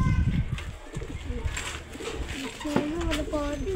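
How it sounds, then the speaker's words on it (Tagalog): Pigeons coo softly at close range, with several short warbling calls near the end, over background chatter and a voice in Filipino. "Ganda ng kalapate."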